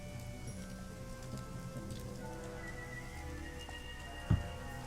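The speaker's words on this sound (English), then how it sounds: "I guess we can turn that off for now, because it is raining. It is quite rainy, one might say." Steady rain falls in a video game, a soft continuous patter of drops with a low rumble beneath and one brief thump near the end, faint and even throughout, without any voices.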